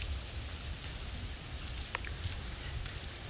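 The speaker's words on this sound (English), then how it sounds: "it started raining again" Steady rain hisses down during a typhoon in the Philippines, a continuous broadband patter with no voices and a faint brief tick partway through.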